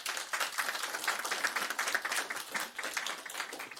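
An audience at a Board of Supervisors meeting applauds, a steady patter of many hands clapping at moderate distance, continuing evenly for several seconds.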